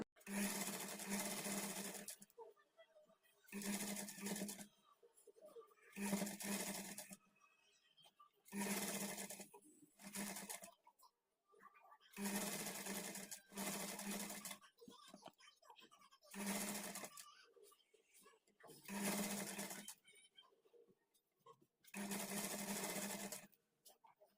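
A sewing machine stitches a folded fabric edge for a blouse hemming patti, running in about eight steady bursts of several seconds each, separated by short quiet pauses.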